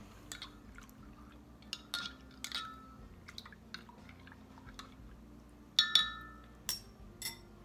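Homemade herbal shampoo being stirred in a glass container, with soft liquid sloshing and scattered light clinks of the utensil against the glass, quiet and close with a few sharper taps near the end.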